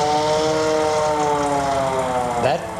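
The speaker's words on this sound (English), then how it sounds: "that was his next position, was to crank this siren. I'm going to turn it just a little bit." Hand-cranked mechanical siren turned slowly by hand, a steady rising and wavering wail that holds and then drops off near the end, close and loud with no talk.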